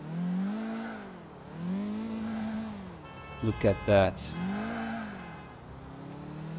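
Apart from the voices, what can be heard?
car driving in GTA IV video game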